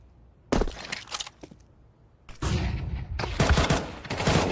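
Bursts of Galil rifle tap fire in CS2 on the Mirage map: short clusters of sharp shots, a quick burst early, a lone crack, then louder repeated taps with echoing reports, no talk.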